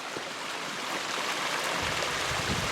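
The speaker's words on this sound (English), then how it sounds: "This is about an 80-foot waterfall." A roughly 80-foot waterfall in the San Gabriel Mountains pours as a broad, steady rushing hiss, continuous and even, with no voices over it.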